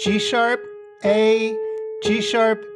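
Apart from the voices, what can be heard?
No distinct noise like a dog, phone or traffic.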